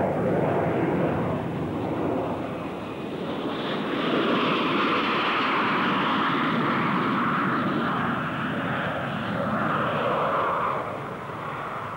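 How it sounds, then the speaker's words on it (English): A Buccaneer low-level naval strike jet flies past at the 1962 Farnborough Air Show, a loud, steady, broad roar that swells and holds throughout with no voices. "The Buccaneer, a low-level naval strike aircraft designed to operate below radar cover."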